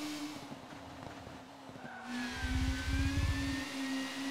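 Tyres squeal in a long sustained whine as a car drifts at the Anderstorp circuit in an STCC racing game, engine droning underneath and rising louder in the second half.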